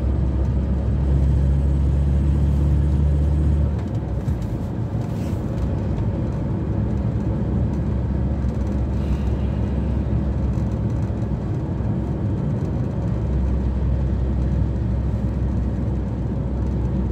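Cars passing close by on a road at a traffic light, a steady broad rumble of tyres and engines that swells and eases, loud throughout with no voices.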